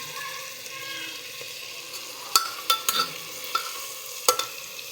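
Meat and raw onion being stir-fried in a pan, a steady soft sizzle with a few sharp spatula scrapes and clinks standing out near the end, no voices.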